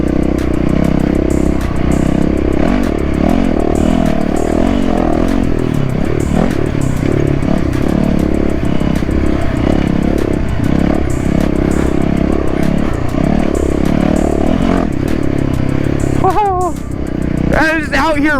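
A Sumo supermoto dirt bike being ridden hard roars loud and close, its engine droning and surging continuously with wind rush, until a voice breaks in near the end.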